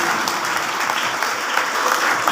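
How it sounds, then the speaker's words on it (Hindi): An audience at a spiritual talk claps steadily and continuously, a dense, even wash of many hands with no pauses and no voices standing out. "एक बार जोर से ताली बजाइए ताकि जो सो रहे हैं वो उठ जाए"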